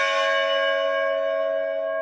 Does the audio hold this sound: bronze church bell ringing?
yes